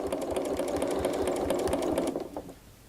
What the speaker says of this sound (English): I'm drawing with the sewing machine